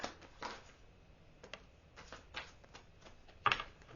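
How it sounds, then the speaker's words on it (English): Sparse, dry clicks at irregular intervals, with a sharper, louder click near the end, set against a quiet background with no talking. "Let's see if that clicking noise is back."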